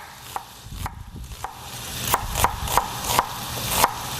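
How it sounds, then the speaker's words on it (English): A knife roughly chops an onion on a cutting board, a run of crisp, close knocks that start sparse and then fall into a quicker, fairly regular rhythm over a faint background sizzle. "So we're going to cut this onion in half, and I'm just going to do some rough chop here."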